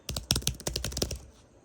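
Rapid, crisp key presses on a Logitech MX Keys full-size keyboard for Mac, about a dozen clacks in quick succession, close and distinct, stopping abruptly.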